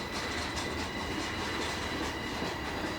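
A Pennsylvania Railroad cabin car (caboose) rumbles past at a distance on the former main line at Gallitzin, Pennsylvania, a steady low roar with faint clatter of wheels on track.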